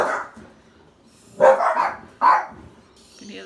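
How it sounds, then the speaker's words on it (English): Dogs bark close by, a few loud, separate barks after a quieter start, set off by fireworks outside, with no talking. "Our dogs went crazy because there's fireworks outside."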